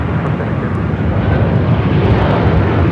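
A fixed-wing airliner taking off from runway 24 left at Los Angeles International Airport in gusty winds, its engines giving a steady, loud, continuous roar throughout.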